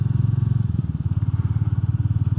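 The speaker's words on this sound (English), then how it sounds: "And the Meteor 350 is absolutely perfect for that. And the sound is really amazing." Royal Enfield Meteor 350 motorcycle cruising on an open road, its single-cylinder engine giving a steady, rapid low thump that is loud and close, with no talk over it.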